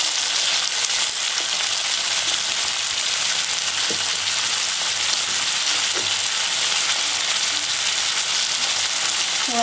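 Potatoes and tomatoes frying in a pan, a loud, dense, continuous sizzle that holds steady throughout, with only a couple of faint ticks beneath it.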